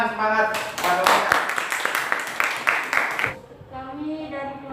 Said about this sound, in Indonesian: Mari kita beri tepuk tangan semangat pada mereka.